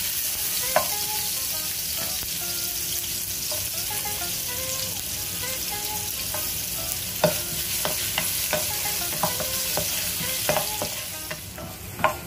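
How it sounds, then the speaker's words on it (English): Ginger sautés in a pan for sweet and sour fish, sending up a constant close sizzle marked by scattered clicks and scrapes of a utensil stirring. "Next, we are going to saute the ginger."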